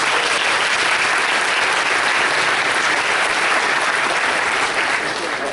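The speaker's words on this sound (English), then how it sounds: "let's all give him a warm round of applause." Sustained applause from an audience at a startup demo day fills the whole stretch, dense and loud, with no voices on top.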